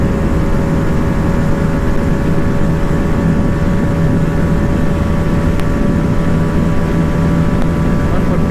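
A KTM Duke 250 motorcycle engine runs at high speed in a steady, loud, unbroken drone, with wind rushing over the microphone throughout.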